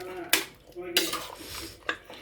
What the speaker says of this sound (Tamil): மசாலையும் ஊற்றி கலக்கிட்டுருக்கிறேன்